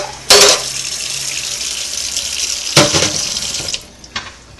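Warm water runs from a kitchen faucet while making no-knead ciabatta bread dough, with two sharp bursts as the tap opens and the flow shifts, then a steady close stream that cuts off near the end.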